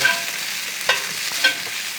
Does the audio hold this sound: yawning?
no